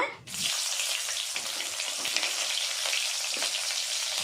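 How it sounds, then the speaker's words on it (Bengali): Bay leaves and green chillies hit hot oil for a Bengali tengra fish curry, giving a loud, steady hiss and crackle of frying that sets in at once and runs without pause. "ওই তেলে দিয়ে দেব দুটো তেজপাতা কাঁচা লঙ্কা"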